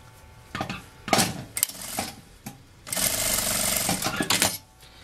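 A sewing machine stitching a fabric lining runs in short bursts and then one longer run, with rattling, clicking mechanical noise between the stitching passages.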